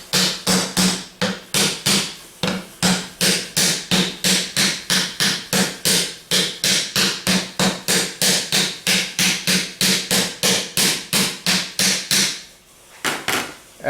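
Steady rapid hammering as an alternator lid is tapped into place during a rebuild, dozens of evenly spaced sharp knocks close up and loud, slowing slightly near the end.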